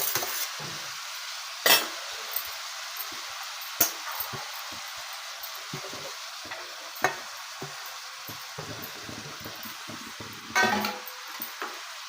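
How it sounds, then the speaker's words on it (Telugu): Cooked basmati rice is tossed with carrots in a frying pan, a soft sizzle underneath occasional sharp clinks and scrapes of a spoon against the metal pan, no talking. "ఇప్పుడు రైస్ వేస్తున్నాను ఫ్రెండ్స్ నేను."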